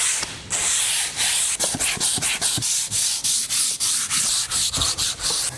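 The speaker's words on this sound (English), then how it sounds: "I'm gonna go ahead, sand them, and then we can finally paint them with the main paint." Power sanding of paint-primed DIY camper van panels gives a loud, steady rasping hiss broken by short regular pauses as the sander is lifted and moved, with no talking.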